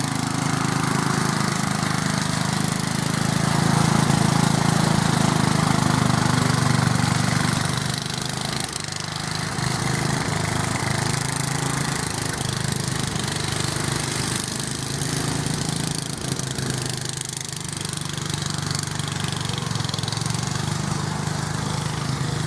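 A ride-on tractor's small Briggs and Stratton engine drones continuously at close range as it is driven, loud and steady with a slight swell early on and a constant rough mechanical rumble.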